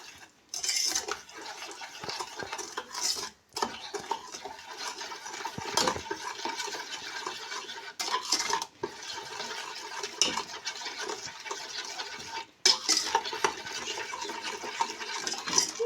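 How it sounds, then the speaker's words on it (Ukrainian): Sugar and agar-agar being stirred into raspberry puree for homemade marshmallow: a utensil scrapes and clinks steadily against the bowl in close, continuous strokes, broken by a few brief pauses. "Далі цукор і агар-агар. Все ретельно перемішуємо."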